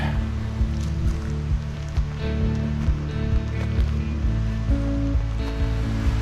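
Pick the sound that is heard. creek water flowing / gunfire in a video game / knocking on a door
creek water flowing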